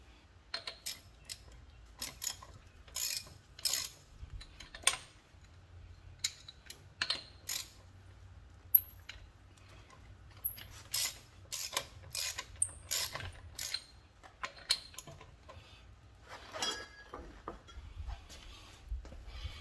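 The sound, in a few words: loosening locking lug nut with deep well socket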